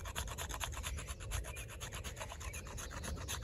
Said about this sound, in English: Let's just try the sharpening tool. Getting back to the scraping.